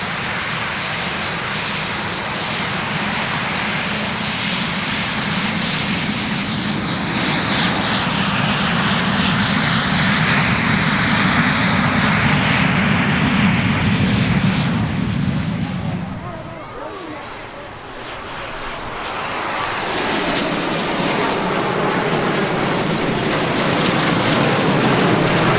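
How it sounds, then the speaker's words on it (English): A Baltic Bees jet team aircraft from Latvia rolls for takeoff at an airshow in Sichuan, China, its engine a loud sustained roar that briefly dips in the middle before swelling again, heard from nearby. "Rolling for takeoff all the way from Latvia, the Baltic Bees jet team."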